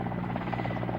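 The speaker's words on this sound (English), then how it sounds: "You can now see the second helicopter align itself to bring blaze further under control." A helicopter hovers over a fire during an Indian Air Force Vayu Shakti 2019 firepower demonstration, a second helicopter lining up to fight the blaze; its rotor gives a loud, steady, close drone with no talk.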